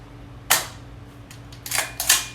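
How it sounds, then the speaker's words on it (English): A GHK MK18 MOD1 gas blowback airsoft rifle fires about four sharp, close cracks with uneven gaps between them, no talking. "we're going to get out the chronograph and see how well it fires"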